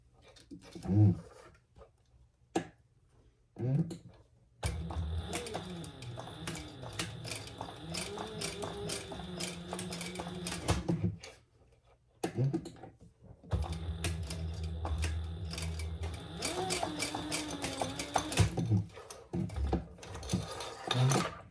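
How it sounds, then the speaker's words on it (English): A sewing machine runs two long stitching passes on an adjustable dog collar, fixing a D-ring in place with rows of stitches. The steady mechanical whirr is close and fairly loud, separated by short pauses with a few soft clicks and handling noises. "we're going to do another row of stitching right there to keep that D"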